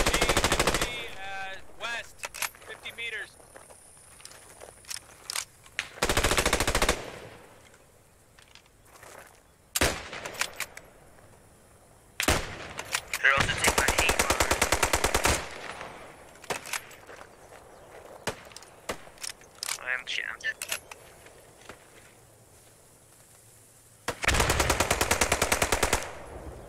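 Machine gun fire in the World War II shooter Post Scriptum, long loud sustained bursts and shorter rattling volleys at close range, alternating with single shots and quieter gaps.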